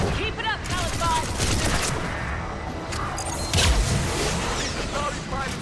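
A gunfire salvo in the Mass Effect 3 video game: dense, continuous rattling bursts and booms under a loud battle din, with voices talking over the combat.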